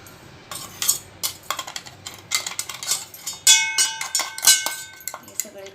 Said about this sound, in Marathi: हे दुधामध्ये मिक्स करून घेऊया